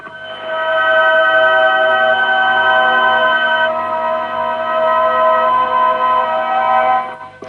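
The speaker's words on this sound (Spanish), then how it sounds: "eso es el sonido de estas figuras pasadas al papel de la partitura" Synthesized tones made by turning crop circle shapes into a musical score sound as a sustained, loud chord of steady pitched notes, some dropping out partway through, ending abruptly with no speech.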